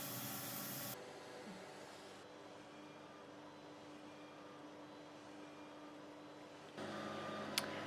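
A eufyMake E1 UV printer primes with a low, steady mechanical hum, louder at the start and end, joined by a faint whir partway through and a small click near the close.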